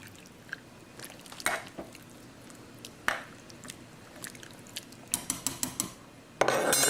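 A spoon stirs vegetable beef soup in a slow cooker, scraping and knocking against the pot in irregular clinks, with a quick run of taps near the end and a louder clatter as the lid area is handled.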